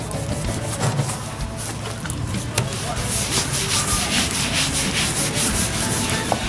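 A scrub pad scours baked-on grease off a grill grate, producing close, continuous gritty rubbing and scraping strokes of fairly even loudness.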